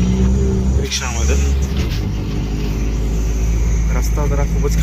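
Inside an auto rickshaw on a very rough road, the engine drones loud and steady with rumbling and rattling throughout, while people talk over it.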